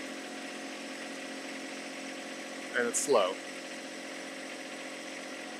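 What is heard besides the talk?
John Deere 1025R tractor engine at wide open throttle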